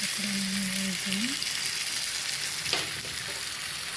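Potatoes fry on a low flame with a soft, continuous sizzle, while a brief tonal whine and a clink or scrape come early on, and a voice can be heard faintly in the background.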